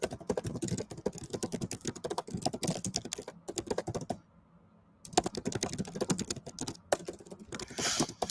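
Fast typing on a computer keyboard during a live day-trading session, with dense, rapid clicking in bursts and a short pause in the middle.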